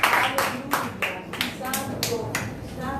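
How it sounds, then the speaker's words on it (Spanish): A church congregation claps together during a worship service, loud repeated bursts of applause running through the whole moment, with voices speaking and cheering underneath. "Dale un aplauso al Señor."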